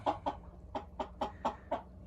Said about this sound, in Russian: Меня просили показать петушков.